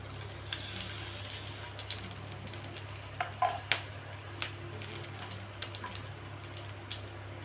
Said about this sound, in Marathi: आता ही मिरची आपण भाजून घेणार आहोत